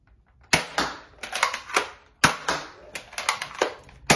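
A NERF N-Strike Elite Disruptor blaster fires darts in rapid sharp snapping clicks, near and crisp, with short bursts of mechanical clacks between shots and no talking.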